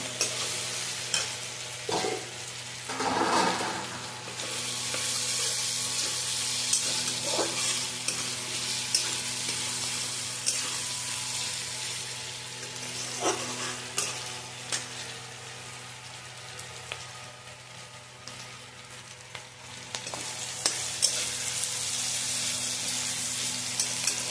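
Ginger-garlic paste sizzles in hot oil in a pan for a homestyle chili chicken, a long continuous crackling hiss broken by spatula scrapes and stirring knocks, close and steady with no talk.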